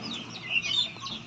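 Chickens cluck in a coop on a small farm after light rain, a few near, fairly clear clucks and squawks rising over a quiet background.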